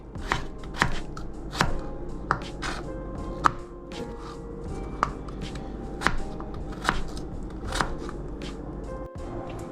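A knife chopping vegetables, onions among them, on a board for baked potato soup, a fast irregular run of sharp close chops that is loud and clear over a faint background, with no speech.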